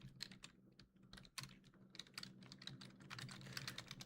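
Computer keyboard typing during a live stream, a steady run of quick, close keystrokes in uneven bursts, alone without talk.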